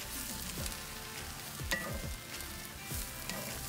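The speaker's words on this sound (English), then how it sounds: "now got the mushrooms in right there. We're gonna cook these" Mushrooms cook in a hot pan alongside a T-bone steak meal, a soft continuous sizzle broken by a few scraping stirs and light clatter.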